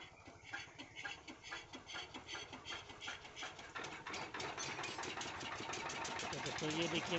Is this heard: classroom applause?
no